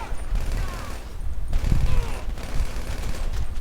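Gunfire in GTA V, heard as dense, continuous shooting beneath a loud game mix with engine rumble. No single shot stands out clearly.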